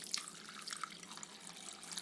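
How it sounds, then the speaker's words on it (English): Water running from a tap into a bowl of washed lentils for soaking, a steady bright splashing and trickling stream close by, with no voices. "Now I'm going to add some water into the lentils"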